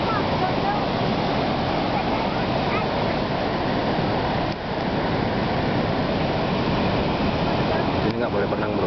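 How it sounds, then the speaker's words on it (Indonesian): Ocean waves at Batu Hiu beach in Pangandaran crash and wash in a steady, loud, continuous roar of surf with no clear pauses. "Ombaknya lumayan"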